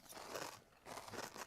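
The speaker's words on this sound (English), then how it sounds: "there's going to be an awful crunching noise going through here at the moment" Two close, brief bursts of crisp crunching from someone chewing, separated by a short pause.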